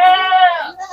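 A goat, a Bligon or Peranakan Etawa crossbreed kept as a contest animal, gives one loud, close, drawn-out bleat with a wavering pitch that trails off near the end.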